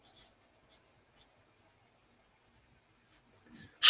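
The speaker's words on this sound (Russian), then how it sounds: "на следующем листе мы пишем ограничения" Pen writing on a sheet of paper makes a few faint, scattered scratching strokes in near-silence, ending with a louder rustle.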